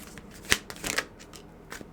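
Tarot cards shuffled by hand, a short burst of crisp riffling flicks and soft slaps close up, with a couple of brief pauses.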